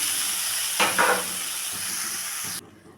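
Water poured into a hot pan of fried mourala fish with spices sets off a sudden, loud sizzling burst that fades into a steady frying hiss before cutting off near the end.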